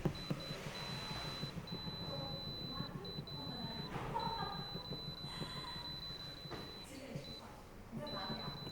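A Longbank 4.5L glass pot air fryer's control panel gives high electronic beeps, several short ones and a few longer tones, while the timer is set on its custom mode; a person talks steadily throughout.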